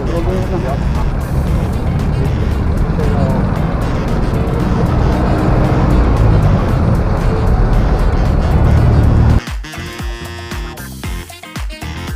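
Busy street traffic rolls through Angeles City, Clark, Pampanga, a dense continuous rumble of engines passing close by, with people talking over it, before the noise cuts to a quieter, choppier stretch near the end.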